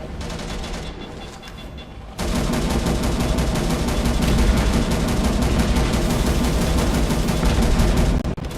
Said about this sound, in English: Right, we're taking fire.